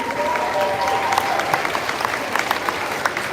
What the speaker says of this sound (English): let's clap for Alana and Jesse.